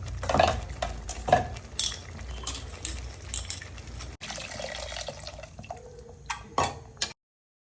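Fish curry, koramenu chepala pulusu made with tamarind water, stirred in a pot with a spoon. Soft scraping and wet sloshing come up close with intermittent clinks of utensil on metal, and no one talks.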